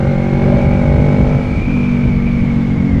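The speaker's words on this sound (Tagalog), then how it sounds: "Pero rinig naman yung muffler." A big bike motorcycle rumbles steadily through its exhaust muffler while riding, giving a loud, continuous droning hum with a slight rise and fall in pitch, close up and with no talking.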